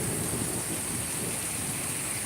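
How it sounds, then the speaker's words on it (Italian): Heavy rain pours in a thunderstorm, a dense, constant hiss of drops drumming on surfaces with a low rumbling underneath, loud and unbroken throughout, with no voices. "adesso è incominciata la vera pioggia ragazzi"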